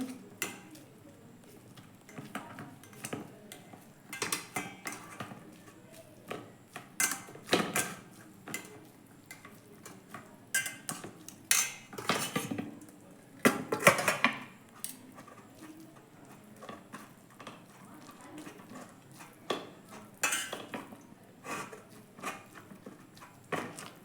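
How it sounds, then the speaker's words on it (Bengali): Spatula pressing boiled papaya in a strainer to squeeze out water, faint irregular clinks, scrapes and soft squelches scattered over about twenty-four seconds, close but quiet. "এবার খুন্তি দিয়ে আমি অল্প চেপে চেপে জলটা বের করে নিচ্ছি"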